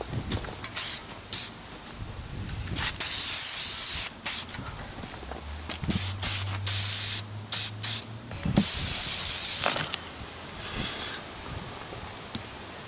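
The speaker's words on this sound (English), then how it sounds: "You want to spray a light layer to introduce the clear coat to the surface, and then you want to go over and do a heavier layer." Clear coat sprayed from an aerosol can onto a Game Boy shell, heard as a series of close, loud hissing bursts of varying length, some short and some sustained, separated by brief pauses.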